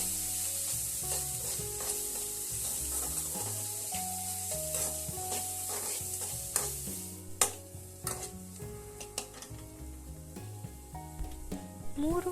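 Turmeric stirred into masala frying in a pan for masala dosa potato filling, with a steady sizzle and scraping spoon strokes, a few sharper clinks near the end; music plays underneath.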